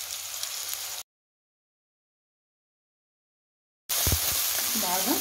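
Onions frying with salt in a pan sizzle steadily and close, cut off by a stretch of total silence before the hiss resumes with a few knocks of stirring.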